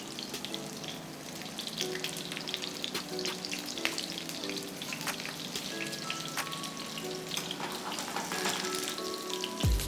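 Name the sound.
plantains frying in oil in a pot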